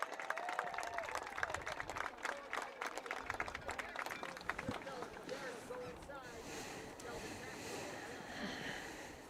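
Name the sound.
round of applause for athletic directors and coaches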